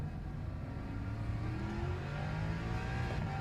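Lexus race car engine in Le Mans Ultimate, a steady, loud engine drone that rises in pitch as it revs, with other cars nearby and no talking.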